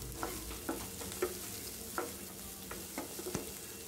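Onions sauté in a pan for tomato rice with a steady soft sizzle, while a spoon stirs with light, regular scraping taps, heard close and fairly quiet.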